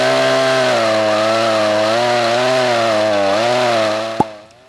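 A Stihl chainsaw cuts through wood as a loud, continuous buzzing drone that wavers slightly under load, then cuts off with a sharp knock and falls silent.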